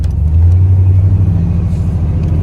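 Chevy car with exhaust pipes run out the back and no tips, idling close by with a deep, steady rumbling burble.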